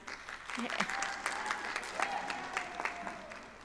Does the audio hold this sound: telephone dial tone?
no